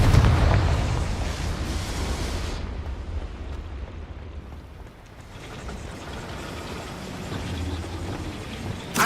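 A Confringo spell blast in the video game Hogwarts Legacy erupts as a loud, booming explosion with a rumbling tail that fades over a couple of seconds, followed by lingering low rumble and crackling effects with no talk.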